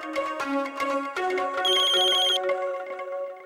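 A phone ringtone plays a bright, repeating electronic melody, loud and close, with a brief high chiming layer in the middle.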